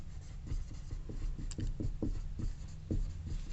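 Writing on a board during a classroom lecture: a rhythmic series of short, scratchy strokes, close and moderately loud, about a dozen quick marks with no voices over them.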